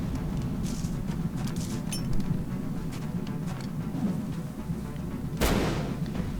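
Flashbang grenades going off in the tactical strategy game XCOM: War Within, dense booming rumble with scattered crackling hits and one sharp loud burst near the end.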